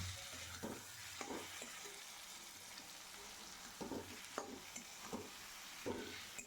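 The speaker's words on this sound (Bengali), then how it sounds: "এরপরে পুরো মশলার সাথে এটাকে আমি মিক্স করে নেব ভালো করে" Fried potatoes and taro being mixed with spices in a pan for a pomfret curry, a faint steady sizzle broken by several soft spatula scrapes, fairly quiet and without talk.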